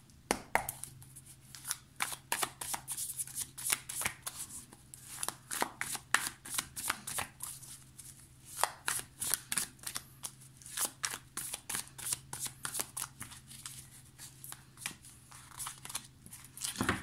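The Light Seers Tarot deck being shuffled by hand: a long run of quick, crisp riffles and soft card slaps, close and quiet, with no talking.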